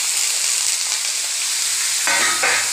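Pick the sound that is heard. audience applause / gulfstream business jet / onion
onion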